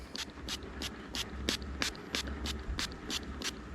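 Cleaning product sprayed onto a 2024 Harley-Davidson Road Glide in about a dozen short, evenly spaced hissing bursts, each roughly a third of a second apart, over low outdoor background noise.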